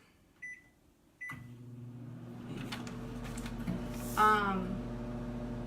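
A microwave oven running uncovered on high hums steadily after a click and a short beep, its low drone running continuously with faint rattling and a brief whir near the end.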